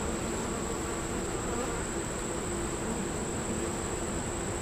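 Dense, continuous buzzing of honeybees fills the air during a hive inspection at honey harvest, a close, steady drone with a high whine running throughout and no talk.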